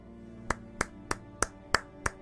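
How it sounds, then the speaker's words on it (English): Six sharp, evenly spaced hand claps ring out alone at the close of Metro 2033, each a crisp, close smack about a third of a second apart over a low steady hum. "Round of applause."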